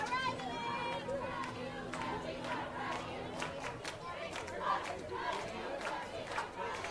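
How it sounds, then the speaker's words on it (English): Crowd noise at a high school football game in the Rochester City Athletic Conference, with steady cheering and chatter from many people and occasional shouts rising above the general din. "A good crowd on hand here today."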